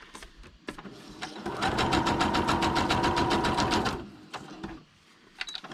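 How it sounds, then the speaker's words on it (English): A sewing machine runs a regular stitch through paper in one steady, loud burst of rapid, even needle strokes lasting a couple of seconds, preceded and followed by quieter handling clicks, with no talk. "I'm going to go back to a regular stitch"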